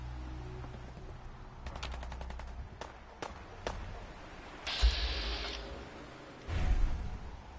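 Someone shooting: scattered bursts of gunfire, clusters of sharp cracks spaced over several seconds, fairly distant and moderate, with a couple of heavier booming hits near the end.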